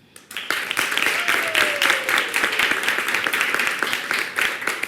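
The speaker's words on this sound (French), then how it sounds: "applaudissements." Audience applause at a televised Christmas family show, dense close clapping that starts abruptly after a brief quiet moment and holds steady throughout.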